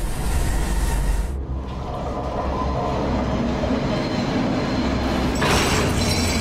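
Train wagons roll along in the horror video game Cry of Fear, giving a loud, steady rumbling clatter with a brief hiss near the end and no talking.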